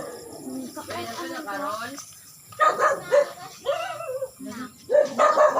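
Barks from a pack of dogs come in loud, clustered bursts separated by brief pauses, close to the listener, with voices of carolers talking between and over them.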